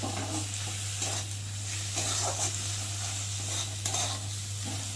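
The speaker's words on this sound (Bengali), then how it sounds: "আমার মশলা কষানো হয়ে গেছে, আর মশলা থেকে তেলও ছেড়ে দিয়েছে, আর মশলাটা সুন্দর ভাজা হয়ে গেছে" Spice paste with tomato stirred and frying in oil in a pan for a Bhola fish curry, a steady soft sizzle with scraping stir strokes throughout, close and moderately quiet, no talking.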